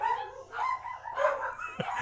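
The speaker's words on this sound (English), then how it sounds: "because I got yappy dogs downstairs" Small yappy dogs bark downstairs inside a house, several sharp yaps and barks in quick bursts, somewhat distant and muffled.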